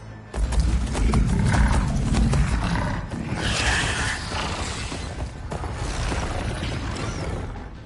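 Mechanical machine mounts in Horizon Forbidden West move with grinding, creaking metal and roaring growls, a loud continuous mass of game sound effects.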